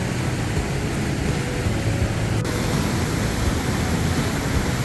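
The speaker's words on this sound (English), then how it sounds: "I absolutely love the sound of the rushing water." Rushing water of Big Manitou Falls, Wisconsin's tallest waterfall, a steady broadband roar that holds evenly throughout with no talking.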